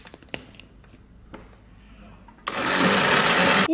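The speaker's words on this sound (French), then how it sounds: "Et c'est parti pour mixer." A countertop blender mixes an apple and Berry Boost smoothie with added water, starting abruptly after a few faint clicks and taps and then roaring loud and steady to the end.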